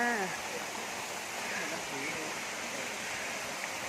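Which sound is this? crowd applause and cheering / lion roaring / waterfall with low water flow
waterfall with low water flow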